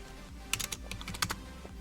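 Quick clacking keystrokes on a mechanical keyboard come up close in an uneven burst of about a dozen crisp clicks over a quiet background.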